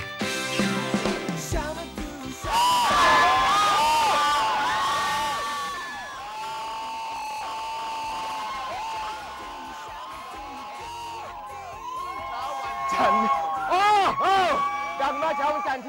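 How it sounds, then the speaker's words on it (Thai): A crowd of fans screams and cheers at high pitch, sustained shrieks rising and falling for several seconds, with shouting voices mixed in throughout. "โอ้โหกรี๊ดดังมากเลยเช้านี้"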